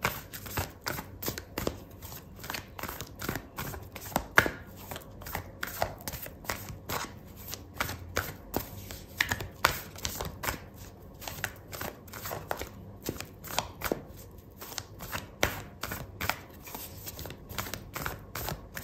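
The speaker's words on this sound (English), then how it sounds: "Okay, so I'm gonna pull out an oracle card for you," Oracle card deck being shuffled during a tarot reading, a steady run of quick papery riffling and snapping card sounds continuing throughout, close and fairly quiet, with no talking.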